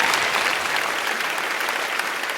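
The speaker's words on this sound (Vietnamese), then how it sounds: "Và một tràng pháo tay nữa cho tất cả các bạn của trường nội trú IVS" Studio audience at a televised Vietnamese memory-contest show breaks into steady, dense applause, loud and continuous throughout with no voices on top.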